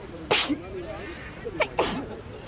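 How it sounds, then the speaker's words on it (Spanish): Two sharp, loud sneezes from a person nearby, about a second and a half apart, with brief vocal sounds around them. "¿Sos vos que me haces estornudar?"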